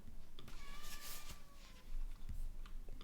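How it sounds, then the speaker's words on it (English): A cat meows repeatedly indoors, near the microphone, with drawn-out, rising cries over a steady background hum. "I've just succeeded in making the meowing louder"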